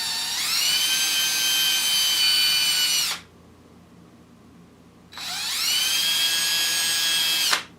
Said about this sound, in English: use a Dremel and actually abrade the surface